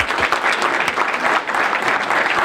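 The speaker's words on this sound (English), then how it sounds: "So just a round of applause for the Metro South Chamber staff." Steady applause from a room of forum attendees at a chamber of commerce business evening, a sustained dense round of clapping with no talk over it.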